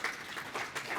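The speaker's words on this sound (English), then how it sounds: "let's give her a warm round of applause" Brief burst of audience applause at a targeted grazing producer panel, a short close wash of clapping hands lasting about a second.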